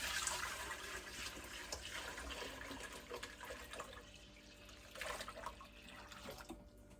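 Natural yarn dye liquid is poured back into a container, making a continuous soft rushing, splashing flow that holds fairly steady for several seconds at a low level, with no voices.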